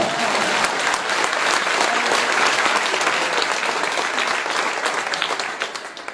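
An audience claps at a religious discourse, with a sustained, dense wash of many hands that holds steady and loud before thinning slightly at the end.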